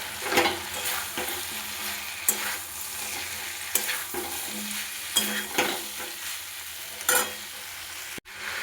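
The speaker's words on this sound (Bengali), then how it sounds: "এবারে এঁচোড়টা দিয়ে একটু কষিয়ে নেব।" Jackfruit is stir-fried in a sizzling spice paste, a ladle scraping and knocking against the pan in irregular strokes over a steady frying hiss, close and moderately loud.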